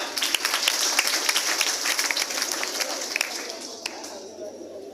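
Crowd applause at an award ceremony where students are being honoured, dense clapping throughout with a few sharper claps standing out, tapering off near the end.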